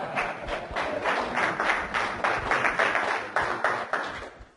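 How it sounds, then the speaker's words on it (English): An audience at a live energy-hypnosis healing demonstration claps in a steady round of applause, with fairly quick, rhythmic hand claps close by and no speech over them. "Give me a big round of applause."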